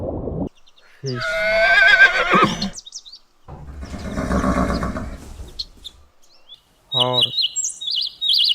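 A horse gives a long, loud whinny, then a second, lower drawn-out neigh after a short pause. Bright bird chirps follow at the end.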